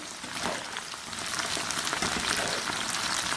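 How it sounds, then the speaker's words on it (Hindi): Okra (bhindi) fries in oil over a medium flame with a dense, steady sizzle that grows slightly louder as it goes on, and no one speaks. "मीडियम फ्लेम पर हम भिंडियों को फ्राई करने हैं"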